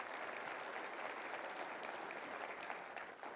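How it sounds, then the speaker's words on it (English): Sustained applause from a conference audience at a university leaders' annual meeting, a dense, even wash of clapping that holds steady before easing slightly at the end. "I want us to give this country a round of applause"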